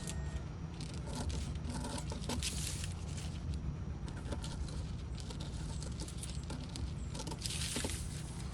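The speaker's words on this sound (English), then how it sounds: "Cut out the pattern piece." Paper sewing pattern piece being cut out with scissors, giving a steady run of close crisp snips and rustling paper over low background hum.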